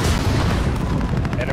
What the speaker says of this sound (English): Missiles up.